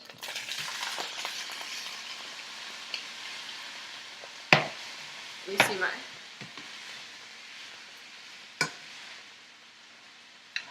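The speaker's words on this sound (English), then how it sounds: "And you can hear that sizzling." Beef for a pot roast sizzles in hot oil in a pan, a soft continuous crackle broken by a few sharp clanks of utensils, with a brief voice speaking.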